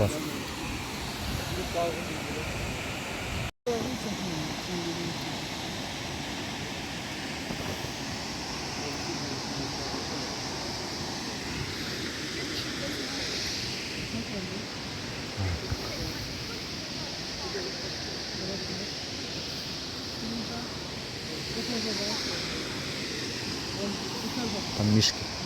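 The Khal-Khal waterfall in Oğuz, Azerbaijan gives a continuous, even rushing roar close by, steady for the whole stretch, with people talking over it.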